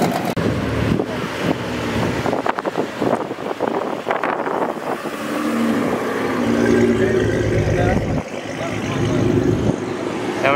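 Mopar muscle cars rolling into a cars and coffee meet outdoors, engines rumbling low and building as they pass, mixed with heavy wind buffeting on the microphone and faint voices.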